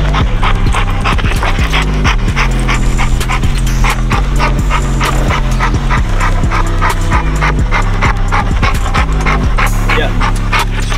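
A dog plays on a spring pole, panting and giving occasional yips and barks close by, with people talking throughout over a steady musical backing.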